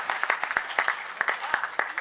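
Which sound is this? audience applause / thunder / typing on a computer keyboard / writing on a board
audience applause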